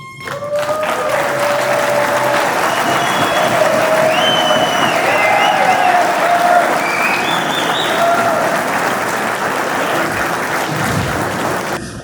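A rally crowd applauds auto workers standing in the audience, sustained loud clapping from many people mixed with scattered cheers and whistles, a few voices calling out over the steady roar.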